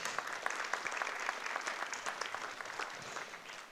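Audience applause at an academic conference panel on higher education reform, a brief burst of steady, fairly distant clapping from a moderate crowd that carries on evenly for a few seconds.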